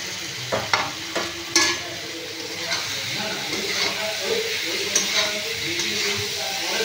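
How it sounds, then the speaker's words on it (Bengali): Fried potatoes go into hot spiced oil in a pan, with a few sharp clanks of the spoon against metal up front, then a continuous sizzle and scraping stir, close and fairly loud. "এরপর আমি ভেজে রাখা আলুটা দিয়ে দেব।"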